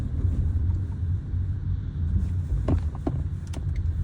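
A 2016 Fiat Panda Lounge rolls over a speed bump, with a low, steady cabin rumble broken by a few soft thumps as the wheels cross the bump.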